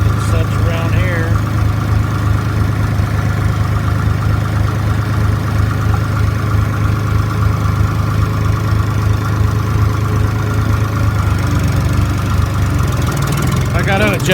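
Old tractor engine idling cold, a loud steady low chugging drone that continues without a break, with a voice talking over it.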